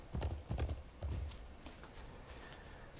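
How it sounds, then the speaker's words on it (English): Horse hooves clip-clopping in the game Lord of the Rings Online (LOTRO): three close, heavy hoof beats early on, then a quieter stretch with faint ambient noise. "The horse is supposed to be somewhere here."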